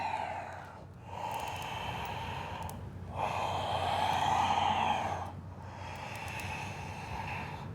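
Slow, steady breaths in and out during a gentle yoga flow for period cramps, heard close and alone in long airy waves with short pauses between them.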